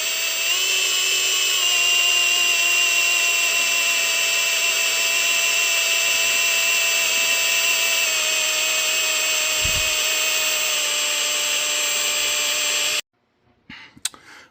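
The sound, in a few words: drilling through a bolt with left-handed drill bit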